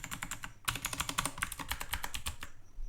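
Quick, steady keystrokes on a computer keyboard while entering code, a close run of crisp clicks with a brief pause early on, then continuous typing before it stops.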